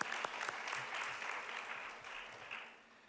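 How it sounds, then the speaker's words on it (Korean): A church congregation at a youth worship service claps together, a dense burst of applause that is fairly faint and distant and fades toward the end. "지금도 살아계시고 역사하신 하나님 앞에 영광의 박수 올려드립니다"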